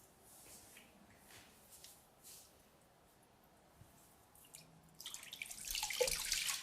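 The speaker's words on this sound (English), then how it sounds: "Now we'll be rinsing the soap" Running water splashes as soap is rinsed off a person's skin during personal care at a lavatory sink, quiet at first and then a steady close, bright rush of flowing water.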